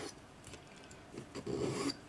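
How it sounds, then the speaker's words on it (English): A flat number 2 cut hand file rasps against a silver Christmas ornament, shaping its edges in a few short strokes, with the longest and loudest stroke near the end; the sound is close and fairly quiet. "take your number 2 cut flat hand file, gently file it into shape"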